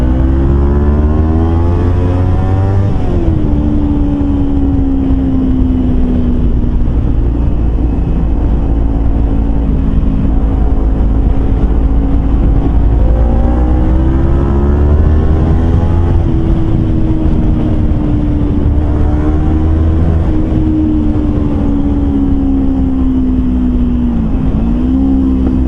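A Kawasaki Versys X 250 motorcycle fitted with a Norifumi slip-on exhaust runs loud and close, its engine note rising and falling through several revs over a steady rumble.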